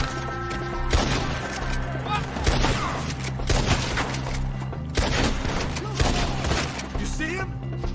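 Repeated gunfire in Red Dead Redemption 2, close sharp shots and volleys fired in irregular bursts during a forest shootout, with voices talking over the action.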